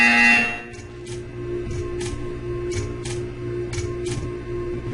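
A repeated electronic buzzer from the video game Portal 2 sounds in a steady series of short bursts at even intervals, over a low hum, with no talking.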